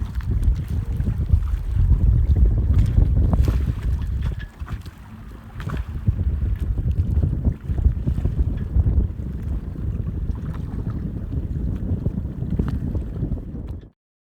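A Sparkman & Stephens 24 sailboat under way in wind, with steady loud wind rush and water noise across the whole stretch, briefly dipping midway, then cutting off abruptly at the end.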